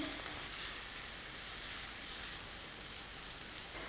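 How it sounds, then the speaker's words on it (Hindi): Vegetables sauté with spices in a pan, a loud, steady, close hiss of frying that stays even throughout with no voices. "सब्जियों को हमने यहाँ पर सौते कर लिया है।"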